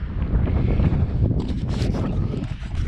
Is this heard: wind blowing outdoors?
yes